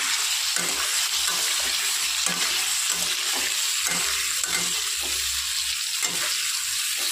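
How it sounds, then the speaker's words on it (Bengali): Potato pieces stirred into a hot spice tempering in a pan, a loud continuous sizzle with rhythmic scraping strokes of a spatula repeating throughout. "আলুটা দিয়ে ভালো করে নাড়াচাড়া করবো।"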